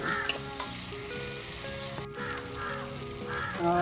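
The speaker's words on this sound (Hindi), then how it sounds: "हल्दी, जीरा, गरम मसाला, नमक और काली मिर्च डाल दें, साथ ही चिकन शामिल कर दें और इसे 5 मिनट के लिए अच्छे तरीके से भून" Chicken frying in a karahi with turmeric, cumin, garam masala, salt and black pepper, a steady sizzle with scraping stirs and a few clinks, fairly close.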